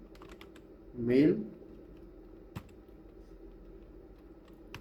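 Quick keystrokes on a computer keyboard while an Excel logic formula is typed: a short, close burst of clicks, then a single later tap, with a brief spoken word nearby.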